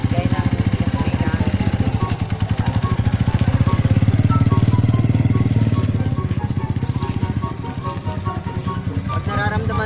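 A manual-transmission motorcycle engine runs steadily at close range with a throbbing idle that swells and eases as the rider works through neutral, first gear and half clutch.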